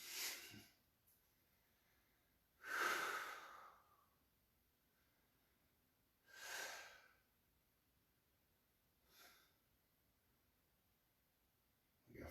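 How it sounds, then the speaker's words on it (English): Heavy breathing during a core exercise workout, with several separate loud exhales or sighs spaced a few seconds apart over quiet background. "And we're breathing."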